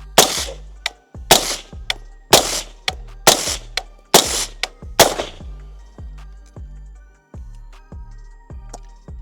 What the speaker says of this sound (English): I will finish out this mag and then we'll add another 20 rounds.